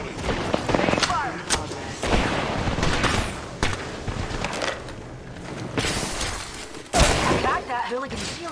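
Rapid bursts of gunfire from a battle royale shooter video game, with sharp cracks and booms packed across the stretch, some louder hits near the end, under a synthetic announcer voice calling out status.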